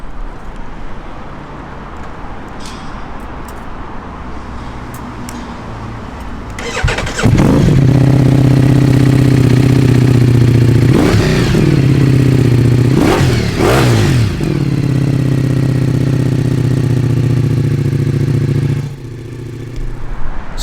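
A 2021 Ducati Multistrada V4S with a full Akrapovic exhaust cranks and fires up close, then settles into a loud idle broken by several sharp revs before cutting off.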